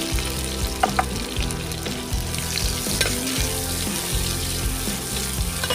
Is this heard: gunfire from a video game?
no